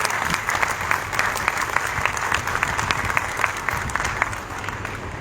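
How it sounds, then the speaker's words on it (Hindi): An audience at a teachers' gathering breaks into sustained clapping to welcome an arriving guest, a dense, lively patter of many hands that carries on steadily and tapers slightly at the end. "एक बार और जोरदार तालियों से स्वागत होना चाहिए।"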